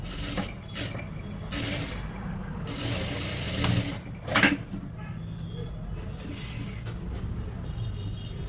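A sewing machine stitches a princess-cut blouse fitted with cups and double lining, making a steady mechanical chatter. Several louder clacks break the run, and it sounds close.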